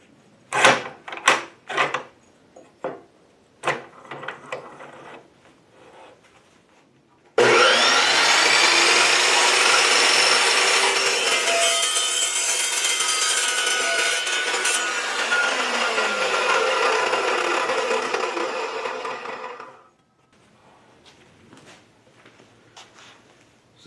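An Evolution chop saw cuts through metal tubing for about twelve seconds, a loud, bright, sustained screech that begins abruptly and stops cleanly, preceded by several sharp clanks as the tubing is handled and set in place.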